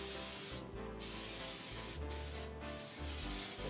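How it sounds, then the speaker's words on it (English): Short bursts of cooking spray hissing into a baking dish, several quick pulses with brief gaps between them, close by and fairly quiet. "I'm going to spray the baking dish"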